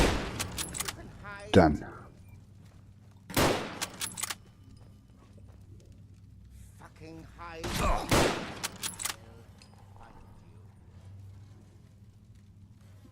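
Gunfire from a machine gun during combat in the video game Fallout London, bursts of shots sounding in clusters over steady background game ambience, with someone speaking briefly.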